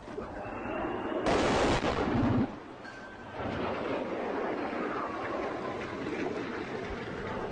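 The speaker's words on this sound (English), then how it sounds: "Three rockets landed close by, spitting out lethal shrapnel" Rockets fired from a low-flying Russian plane strike close by: one sudden, loud, heavy blast lasting about a second, followed by a lingering rumble.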